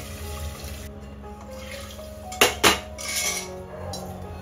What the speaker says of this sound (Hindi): तो अब इसमें डाल देते हैं अपनी दाल फटाफट से